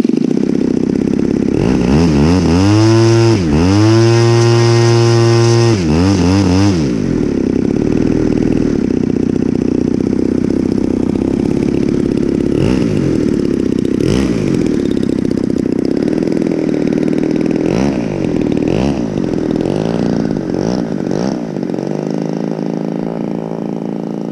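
A Wilga aircraft engine cranks and catches with a loud, rough roar, revs in bursts with rising and falling pitch, then settles into a steady, powerful running drone close by.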